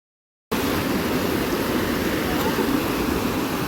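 A mountain spring in a valley near Islamabad rushes on steadily in a dense, even wash of water noise that starts abruptly after a brief silence and stays close and constant.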